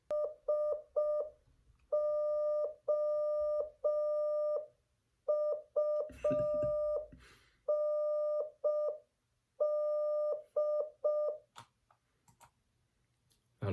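Morse code tones sound at a fast training speed, crisp bursts of a single steady pitch forming rapid dots and dashes in spaced groups, loud and clean with a brief noisy rustle midway.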